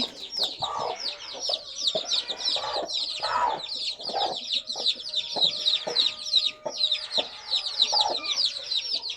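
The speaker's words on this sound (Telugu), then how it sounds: "ఇదండి పిల్లల కోళ్ళు ఇక్కడే ఉండి" A busy chorus of high peeping chicks mixed with lower hen clucks, constant and close, with repeated cheeps layered throughout.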